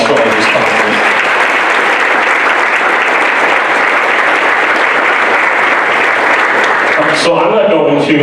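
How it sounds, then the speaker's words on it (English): Loud, dense audience applause for sponsors at an economic development strategic plan rollout event in Greater Green Bay, filling the room steadily for about seven seconds before fading as a voice resumes. "If you could give a round of applause for all these sponsors."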